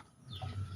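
Chickens clucking close by, a short burst of low throaty calls with a brief higher squawk.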